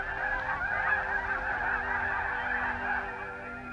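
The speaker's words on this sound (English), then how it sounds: "At times, up to 1 million waterfowl are here at one time." Snow geese and other waterfowl at a large wetland lake honk continuously as a flock, a busy, overlapping chorus of calls at moderate distance with no voices.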